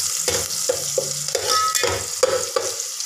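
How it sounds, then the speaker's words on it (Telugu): Onion, green chilli, cinnamon and cloves fry in hot oil in a pan for chicken curry, a steady close sizzle broken by repeated scraping stirs at a regular rhythm. "ఉల్లిపాయ పచ్చిమిర్చి చెక్క లవంగాలు వేగుతున్నాయి"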